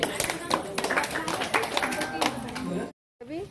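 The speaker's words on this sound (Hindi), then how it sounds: "ताली बजाइए" Hand clapping from a gathering of striking women's self-help group members, brisk claps mixed with voices for about three seconds, then a brief silence and talk resumes.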